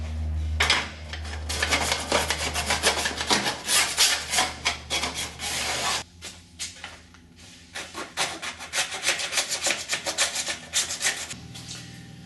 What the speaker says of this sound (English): The flat file is perfect for getting these flanges down here.